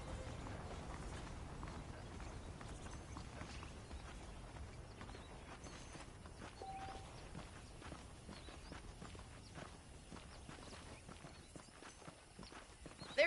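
Horse hooves clip-clop steadily at a walk in Red Dead Redemption, a soft, even rhythm of hoofbeats continuing throughout at low volume with faint ambient background.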